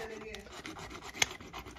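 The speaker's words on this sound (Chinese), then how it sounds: "只把这脚阀给它锯个3节。" A hand saw rasps back and forth through an old pipe foot valve in a house repair, making a faint, steady scraping with one brief sharper click.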